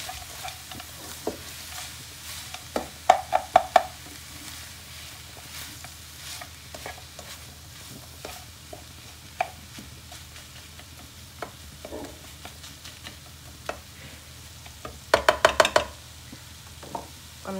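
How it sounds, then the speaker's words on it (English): Frozen corn cooks in a pan for spaghetti, giving a steady low sizzle with scattered sharp clacks of a utensil stirring against the pan, including quick bursts of knocks near the start and toward the end. "Next, we'll put the corn, because that's frozen, so that needs to cook through as well."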